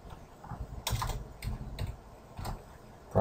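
Typing on a computer keyboard while working in estimating software, a few scattered key clicks at close range, uneven in rhythm, over a quiet room hum.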